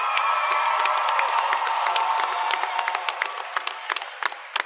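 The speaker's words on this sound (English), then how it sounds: "I need to hear you cheer for yourself right now" A graduating class at a Class of 2024 ceremony in Maple Heights cheers for itself, with a loud crowd roar of whoops and shouts that slowly fades into scattered claps.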